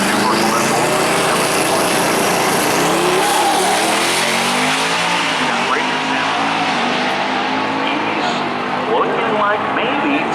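A 1992 Ford Mustang roars down the drag strip at Maryland International Raceway, its loud engine sustained and droning, while a voice talks over the noise.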